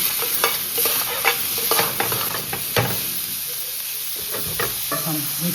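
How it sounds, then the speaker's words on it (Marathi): Chicken keema frying in a pan with onion and tomato, a steady sizzle with scraping stir strokes and knocks of a spatula running throughout at close range. "तोपर्यंत त्यात खिमा टाकूया"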